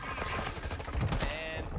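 Video game gunfire, a quick run of sharp rapid shots crackling in bursts, partly under excited voices calling out.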